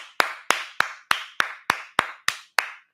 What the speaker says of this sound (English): I was clapping for him